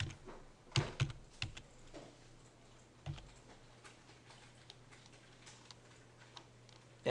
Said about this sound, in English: So type in OVERKILL,